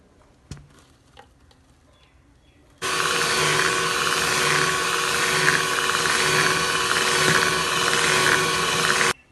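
An electric mixer beats cold whipping cream for mango ice cream, starting as a sudden steady whirring drone after a few quiet seconds and running loud and even, then cutting off near the end.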